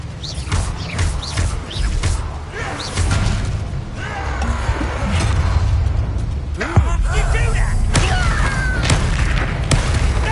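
Confringo spell blasts in Hogwarts Legacy go off amid combat, with deep booms and crashing impacts layered over a dense, loud background of fighting effects.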